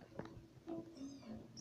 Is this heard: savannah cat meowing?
yes